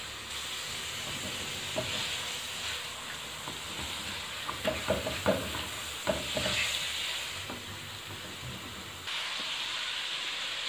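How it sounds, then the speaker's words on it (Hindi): Chicken pieces fry in oil in a pan for fried rice, a soft continuous sizzle broken by clusters of sharp spatula clacks as the meat is stirred. "और अब चिकन को हम ऑयल में पकाते जाएंगे तकरीबन 4 से 5 मिनट के लिए।"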